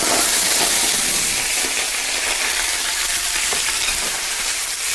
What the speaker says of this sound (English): Then I'm going to brown my fresh bones.